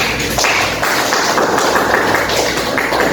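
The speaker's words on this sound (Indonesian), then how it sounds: "Kita beri aplaus pada kelompok 1." Schoolchildren in an elementary classroom clap together for a group of classmates, a dense, loud burst of hand claps right up close that runs without pause.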